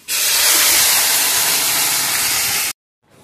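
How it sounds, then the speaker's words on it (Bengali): Hot water poured into a pan of spicy masala frying for an eggplant and fish curry, giving a loud, steady steam hiss for under three seconds that cuts off abruptly. "গরম জল দিয়ে দিচ্ছি"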